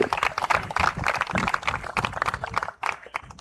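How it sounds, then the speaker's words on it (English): Applause and clapping at a women's under-19 cricket match in the Cayman Islands, a crowd cheering the winning side between Argentina and a Next Gen XI; dense, irregular clapping runs steadily throughout at moderate distance. "today's victors, give them a round of applause as well"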